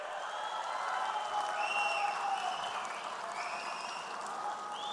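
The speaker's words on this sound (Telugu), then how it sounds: "గట్టిగా చప్పట్లు కూడా చెప్పాలి" A large crowd at the TDP Mahanadu 2025 party gathering in Kadapa applauds, a steady distant wash of clapping with faint voices running through it.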